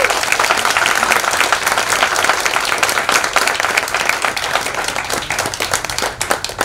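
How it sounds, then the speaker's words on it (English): Sustained applause from a graduation audience celebrating the class of 2022, dense steady clapping throughout at a loud, even level with no pauses. "Let's give a round of applause to the class of 2022 for their amazing achievements."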